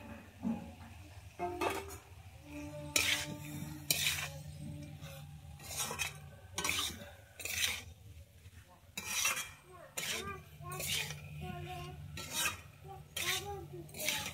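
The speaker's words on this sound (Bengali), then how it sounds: "এবারে আমি দিয়ে দিচ্ছি ভেজে রাখা চিংড়ি মাছটা" Fried prawns go into a pan for a Bengali prawn and elephant foot yam curry, followed by irregular scraping and clinking of a metal spatula stirring against the pan, close and fairly soft with short pauses.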